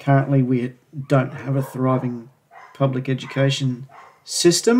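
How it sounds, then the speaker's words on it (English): Dogs barking next door, heard as intermittent bow-wow barks and yips in the background, partly masked under continuous close male speech throughout. "Pardon the dogs barking next door."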